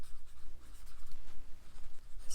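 Chalk or marker writing on a board during a French maths lecture: a run of soft, rhythmic scratching strokes, close and fairly quiet, with no talk over it.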